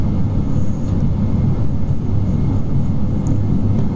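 Dash 8 Q400 turboprop engines during takeoff climb, a loud, steady low rumble and drone filling the cabin without pause, no talk.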